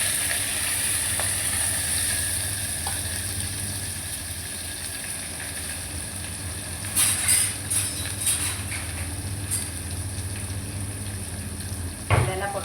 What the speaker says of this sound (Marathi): तर मी पहिला कांदा टाकते.